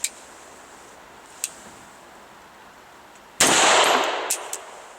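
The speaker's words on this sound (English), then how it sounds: "Let's get to shooting right now." A single loud, close gunshot from a double-action Beretta Elite II 9mm pistol rings out and decays slowly, preceded by a few faint sharp clicks in otherwise quiet surroundings.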